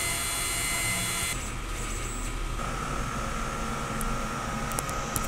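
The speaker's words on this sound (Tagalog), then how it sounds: "Ganito naman po yung tamang pag-nozzle test." A DTF printer runs a nozzle test, a steady mechanical whir and hum with a tonal shift partway through as the print carriage moves, heard close and alone.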